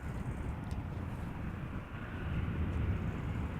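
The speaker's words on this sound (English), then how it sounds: "Let's have a quick look at the landing of the 73." A Boeing 737 airliner lands at Amsterdam Schiphol Airport, heard as a distant, steady broadband jet roar that swells slightly toward the end, faint and without speech.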